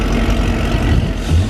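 A Camaro SS engine runs on a dyno with a loud, dense low rumble throughout the short span, close by and steady.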